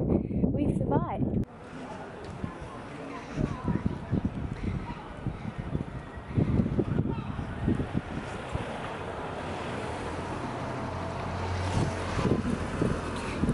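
Gusty wind buffets the microphone outdoors at a campsite in Devon and Cornwall, with people talking intermittently under the roar and a low steady hum near the end.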